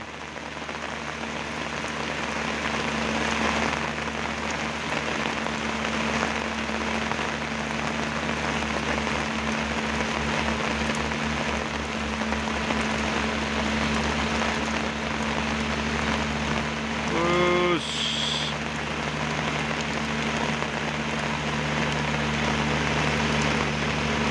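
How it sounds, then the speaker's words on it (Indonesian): Heavy rain pours down steadily on a mountain road where trucks and buses climb in Kalimantan, a loud, even hiss that holds for the whole stretch over a low engine drone, with one brief higher sound partway through. "Dan ini terpantau sangat hujan deras."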